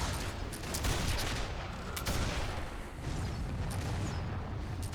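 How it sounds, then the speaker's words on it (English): Dense, continuous cannon fire and explosions on a Warhammer battlefield in an online game, booming thuds piling up with no break, heavy low rumble throughout. "We'll be easy targets for the cannon"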